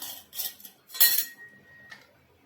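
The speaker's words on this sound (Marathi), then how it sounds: "पॅन गरम करायला ठेवला" A metal pan set down on a kitchen stove to heat while preparing rava-coated banana slices, giving a few clattering clinks and a sharp clank, then a faint lingering ring, with no talking.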